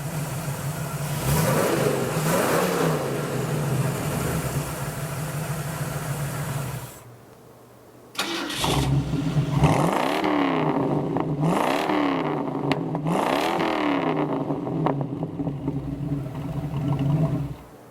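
A Ford 302 V8 with an Edelbrock carburetor in a 1934 Ford Coupe idles with a lumpy rumble and revs up several times, dropping out briefly midway, then returning with more repeated throttle blips.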